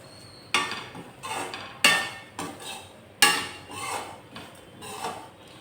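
Oats roasting in a pan, stirred with a utensil that knocks and scrapes against the metal in sharp, irregular clatters, close and fairly loud with short pauses between strokes.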